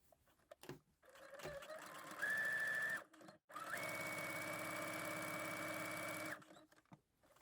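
Sewing machine stitching through two layers of lofty, wadded quilted fabric, running in a short loud burst and then a steadier three-second run with a brief pause between, close and alone.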